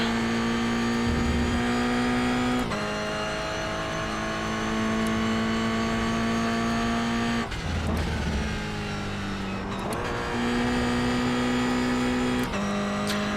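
A GR86 race car engine in the iRacing GR86 Cup at Laguna Seca holds a loud steady drone, then drops pitch in sharp shifts and climbs again, revving through gear changes.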